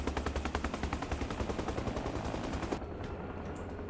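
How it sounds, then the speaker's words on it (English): A helicopter in Arma Reforger fires in a fast, steady burst of sharp repeated shots for nearly three seconds, then stops abruptly and leaves a low rumble behind. "I just realized that's him shooting Hellfires."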